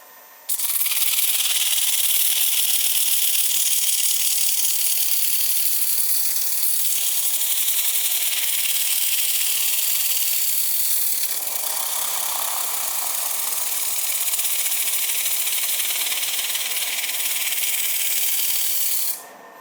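A wood lathe spins at about 900 RPM while a 2-inch soft pad disc sands the bottom of a turned bowl, giving a loud, steady abrasive hiss that runs unbroken for nearly the whole stretch.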